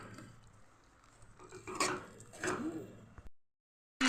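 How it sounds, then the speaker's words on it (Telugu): A spoon scrapes and stirs a semolina and sugar syrup mixture for rava laddu in a pan, a soft, close, uneven swishing with a couple of louder scrapes, then a sudden silence. "మనం దగ్గర పడేలాగా కొంచెం కలుపుకుందామండి"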